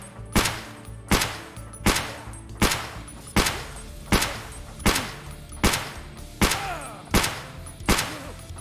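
Twelve evenly spaced .366 gunshots in Escape From Tarkov strike body armor at a steady rhythm, each sharp crack ringing briefly before the next, loud and close with no talk.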